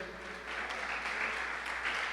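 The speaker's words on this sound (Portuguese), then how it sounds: "Pode aplaudir o Senhor." A church congregation applauds during a sermon, a steady wash of clapping at moderate distance that swells slightly midway and holds for about two seconds without pause.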